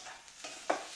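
Fish roll frying in an old Teflon pan, faint sizzle with a couple of short stirring scrapes near the end, quiet and close, no voices.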